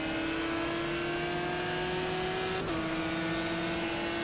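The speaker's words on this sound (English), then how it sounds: "Shifting up through the gears." A race car engine in the GTR 2 racing game revs hard at a steady high drone and drops in pitch once with an upshift, then keeps pulling loudly and continuously.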